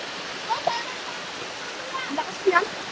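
River water in Alfonso, Cavite rushes in a steady broadband hiss, with people talking faintly over it.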